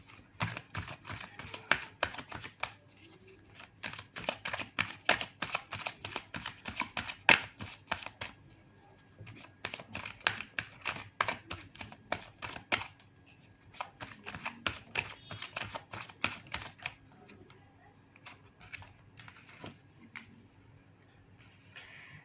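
Tarot cards are shuffled and drawn by hand, giving quick riffling flicks and soft slaps in irregular bursts, close and fairly quiet over a low steady hum, with no talking.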